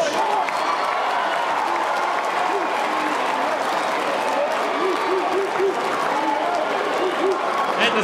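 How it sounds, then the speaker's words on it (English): A school hall audience at a college music competition claps warmly to welcome a judge, steady applause with some cheering and a presenter's voice faintly underneath. "A round of applause for Mr. Peter Ehrlich"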